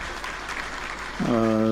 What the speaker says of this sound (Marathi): त्यांचं एकदा टाळ्या वाजवून स्वागत करा